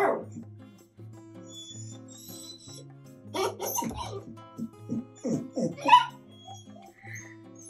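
Two playful dogs bark and yip in bursts, close and loud, with a quieter stretch before the barking picks up; a person's voice is heard briefly.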